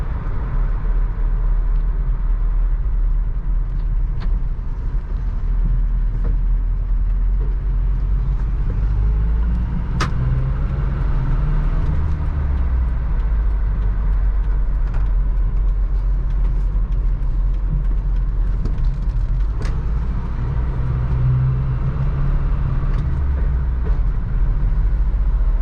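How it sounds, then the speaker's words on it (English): Constant low road rumble and drone fill the cabin of a 1985 Toyota pickup truck being driven, loud and steady with a few faint clicks and no talk. "A lot of road noise in this truck."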